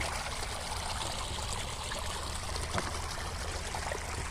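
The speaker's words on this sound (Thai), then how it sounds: "ขนาดฤดูแรงน้ำไหลสดๆด้วยครับพี่น้อง" Fresh water flowing in a stream during the dry season on rural farmland, a steady, close, full rushing and gurgling that continues without break and with no talk.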